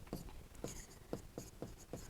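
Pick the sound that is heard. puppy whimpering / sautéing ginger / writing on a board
writing on a board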